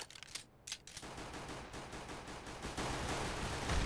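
Sustained automatic gunfire sprayed in a Counter-Strike match, a dense rapid stream of shots with a few separate bursts at first, loud and continuous, with no talk.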